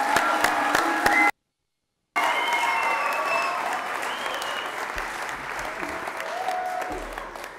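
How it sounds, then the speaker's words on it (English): An audience at a sonography program pinning ceremony breaks into loud, dense applause for graduates, cut by a short silence, then continuing with scattered cheers and voices mixed into the clapping. "So let's start with a big round of applause"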